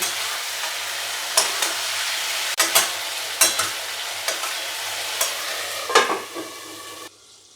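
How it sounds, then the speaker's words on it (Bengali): Oil sizzles steadily as potatoes fry while a spatula scrapes and stirs in a pan, with several sharp clacks spaced irregularly across the sizzle. "আমি তাই মাঝে এসে একটু নেড়ে দিচ্ছি।"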